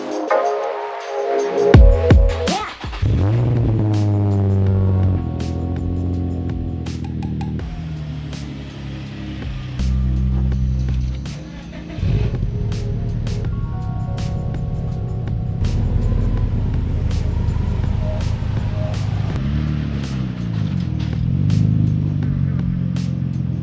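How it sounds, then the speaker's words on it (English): Nissan 350Z coupe starting up and being driven slowly between two home garages, its engine idling, revving lightly and clattering close by, with a few brief shifts in pitch and no talk. "I'm going to switch the Z from the small garage over here to the big garage where the wagon is"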